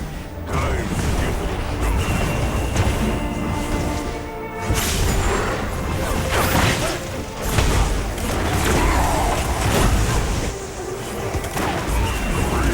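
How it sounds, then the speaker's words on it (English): Turret under attack and destroyed in League of Legends: Wild Rift, a dense, continuous layer of game combat effects with mechanical clanks, creaks, thuds and crashing impacts, loud and busy throughout with no speech. "Enemy turret destroyed."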